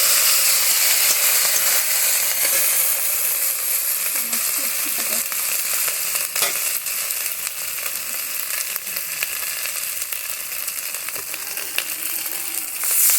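Ginger and radhuni spice pastes frying in a pan for Bengali shukto, a loud steady close-up sizzle and hiss that runs throughout with faint stirring scrapes, no talking.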